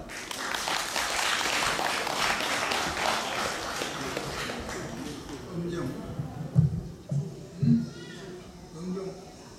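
An audience claps loudly at a sijo singing performance, a dense spatter of applause that fades over several seconds. A voice then speaks alone.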